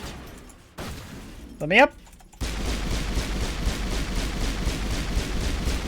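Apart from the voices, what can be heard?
pistol shots setting off explosions in Mass Effect video game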